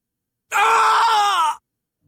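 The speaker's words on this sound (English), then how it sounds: "The good old Shulk Scream." A single drawn-out character scream, the Shulk Scream in Final Fantasy 16, rings out loud and close for about a second, a strained tonal cry that cuts off abruptly into silence.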